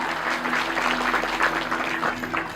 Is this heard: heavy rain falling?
no